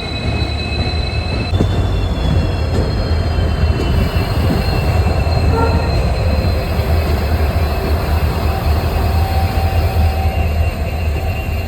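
A diesel-hauled train running from Mangalore Central toward Subrahmanya Road rumbles steadily and loudly on its rails, with thin, sustained wheel squeals and faint clicks riding over the constant roar.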